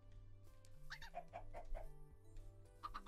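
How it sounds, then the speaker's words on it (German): Chickens in Minecraft, version 1.19.2, give a run of short clucks in rhythmic bursts over steady game background music, fairly close and clear. "wer killt denn da schon wieder die Hühner?"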